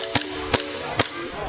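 Three sharp, snappy airsoft gun shots ring out at a camping fest, evenly spaced about half a second apart, loud and close.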